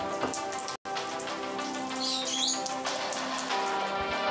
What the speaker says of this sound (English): Let me see if you guys can hear the rain.